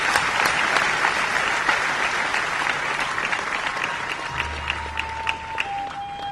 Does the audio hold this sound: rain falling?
no